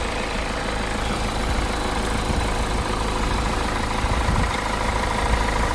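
A 2016 Renault Duster RxL diesel engine idles steadily and close, a continuous even rumble with no breaks, heard alone.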